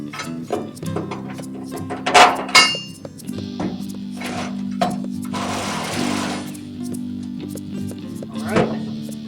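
A whirring drill motor hums while drilling holes in metal on a pickup truck, metal clinking and clattering nearby, with a brief harsh burst of drilling midway.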